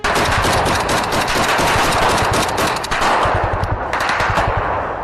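Machine gun fire in a battle in Ukraine, loud, rapid continuous bursts of close-range gunshots filling the whole stretch with only brief dips.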